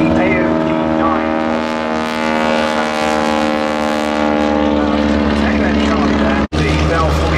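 An AOP-9 propeller aircraft drones loudly and steadily with a strong engine hum at an air show at Duxford, close by and constant throughout, with a momentary dropout near the end.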